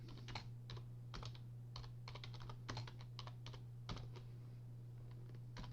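A computer keyboard typed on steadily to enter a label title for a course page, with crisp irregular key clicks in quick bursts over a low steady hum, no voices.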